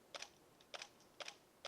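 A camera shutter clicks four times at a slow shutter speed, each release a close double click with a gap between open and close, evenly spaced in a quiet room.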